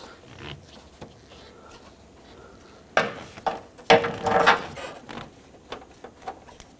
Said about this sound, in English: let's take off the hose clamp that holds the upper radiator hose on. I'm going to use my hose clamp pliers